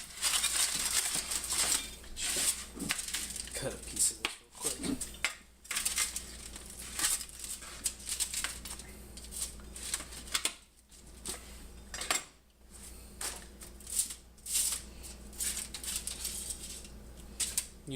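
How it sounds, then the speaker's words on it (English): A pizza cutter scrapes crispy flatbread pizza and stuck-on cheese off a plate, giving close, continuous scratchy clinks and crunchy crackles that run on and off with brief gaps. "I got the pizza cutter here, so I'm just gonna scrape it off from where that cheese attached to the plate"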